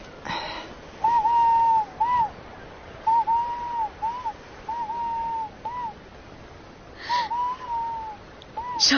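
Repeated hooting bird calls, likely an owl, sound in a series of short rising-falling notes over a steady noisy outdoor background, a few separated phrases close together.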